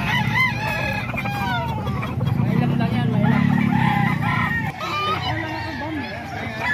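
Chickens and roosters at a farm in San Ildefonso cluck and crow repeatedly, fairly close, over steady background noise, with people talking throughout.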